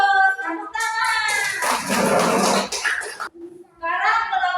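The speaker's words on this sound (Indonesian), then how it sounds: "Ya, bagus. Tepuk tangan." Children in a classroom give a short burst of applause lasting about two seconds, with a teacher's voice speaking before and after it.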